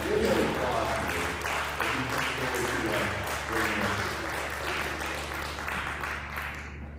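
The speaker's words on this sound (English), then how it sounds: "We give him applause today." A church congregation applauds a guest preacher during a service, with steady, sustained clapping from a full room that continues evenly throughout.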